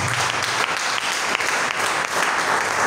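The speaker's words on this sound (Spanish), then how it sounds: "dale un fuerte aplauso a Jesús." A church congregation applauds loudly and continuously, dense clapping from many hands that fills the space without a break.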